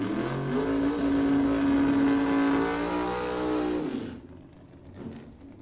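A 1970 Plymouth Duster and a rival car launch side by side at a drag strip bracket race, engines roaring loud and steady with a rising pitch for about four seconds before cutting away, leaving faint distant noise.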